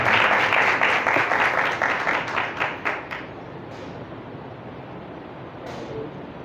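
An audience at a pastor's Bible study gives a burst of loud, close clapping that thins out and fades over a few seconds into quiet room noise.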